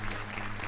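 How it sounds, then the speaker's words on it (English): A studio audience on a gossip and news talk radio show applauds in a brief, steady wash of clapping. "I'm glad we still have an audience here to applaud"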